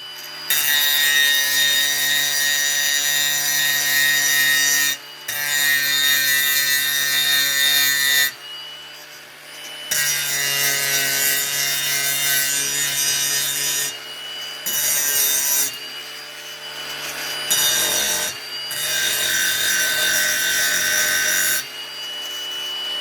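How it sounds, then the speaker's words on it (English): Power grinder removing mill scale and dirt from scrap iron in a cold garage, loud harsh abrasive bursts of several seconds each, separated by short pauses. "First I grind off any mill scales and the dirt and stuff that the glue will adhere."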